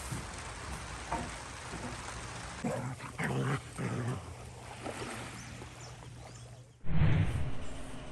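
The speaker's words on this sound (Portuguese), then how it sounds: "Cachorro de fora aqui, ó." A dog outdoors at a catamaran sailboat construction site gives a few short barks over a steady background hiss, with one louder bark burst near the end.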